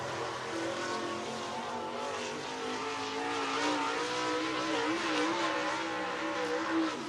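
A Super Late Model race car lapping Southern Raceway: a sustained, droning engine note that rises and falls in pitch as the car works around the track, heard from a distance at moderate, fairly steady loudness.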